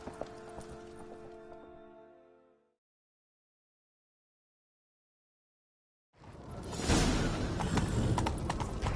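A horse's hooves clip-clop in a game scene, first a rhythmic run that fades out, then after several seconds of silence a louder burst of hoofbeats returns and continues to the end.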